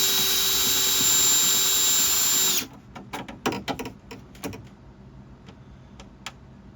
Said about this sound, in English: you can actually just drill the spacer out at just a hair